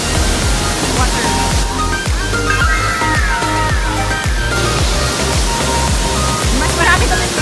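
Nikobuchi waterfall in Japan roars as a loud, steady rush of falling water, close by and continuous, with people talking briefly over it.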